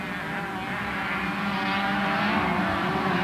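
A Kawasaki motocross motorcycle races in the 1988 Alaska State Motocross Championship in Anchorage, its engine droning loudly and steadily, rising slightly in pitch as it holds speed, with no voices.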